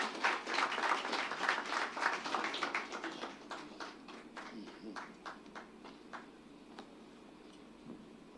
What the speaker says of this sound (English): please, another round of applause for the team of Zichis Agro Allied Industries